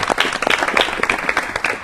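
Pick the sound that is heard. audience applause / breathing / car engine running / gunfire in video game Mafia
audience applause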